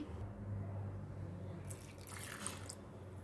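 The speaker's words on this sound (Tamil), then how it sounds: "கொஞ்சம் தண்ணி ஊற்றி" Water is poured briefly into a grinder jar, a faint splashing trickle lasting about a second against quiet background hum.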